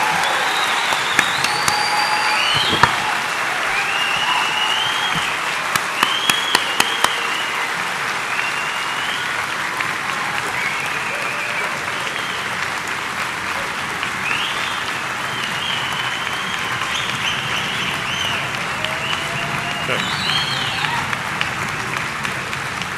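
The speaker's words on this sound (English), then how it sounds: "let's have another round of applause to all who received the degrees today" An audience applauds degree recipients at the University of New Brunswick's 195th Encaenia graduation ceremony: a long, even roll of clapping filling the hall, with a few sharper claps popping out near the start.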